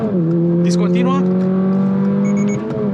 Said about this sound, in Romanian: Motorul încă sună puțin a aspirator înfundat